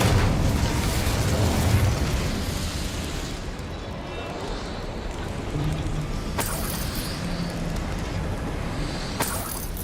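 A fiery Incendio spell from Hogwarts Legacy roars as a loud, sustained rushing burst, rumbling on for several seconds with sharp crackling pops near the middle and end.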